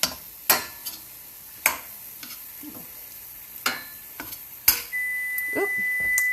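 A kitchen timer beeps as oven-baked sweet potato fries finish, a steady electronic tone starting near the end after a series of sharp clicks and clatters of handling in the kitchen.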